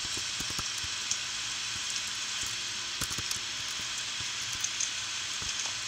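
Rain falls steadily in the Minecraft video game, an even hiss of dense patter with small crackling drops, constant throughout with no talk.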